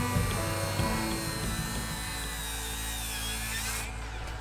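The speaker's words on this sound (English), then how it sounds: "So here's my circle saw." A circular saw whines steadily and loudly at close range while cutting into the ends of timber beams on a house build, its motor pitch sagging slightly under load, with no talk.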